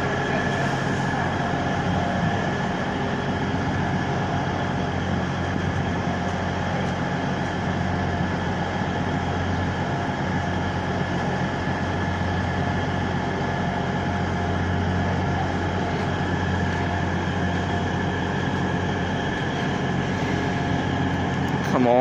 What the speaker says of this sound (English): let's watch this train leave.